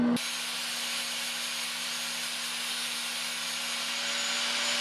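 Flap wheel on a lathe grinding a radius on a metal part for an EPS steering conversion on an LS-powered Triumph GT6R, a steady loud broadband whir with a constant hum, starting abruptly and running without pause.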